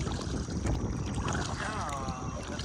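Wind blowing across the Kishwaukee River while kayaking, a steady close rumble of gusts buffeting the microphone for the whole stretch, with faint water sounds underneath and a brief, faint whistling tone midway.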